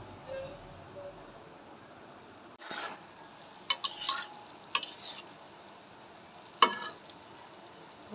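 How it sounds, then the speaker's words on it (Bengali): Palm fruit fritters (taler bora) frying in oil, a low sizzle that jumps louder around two and a half seconds, broken by sharp clinks and scrapes of a utensil against the pan. "এবার আমি তেলে ভেজে নেব।"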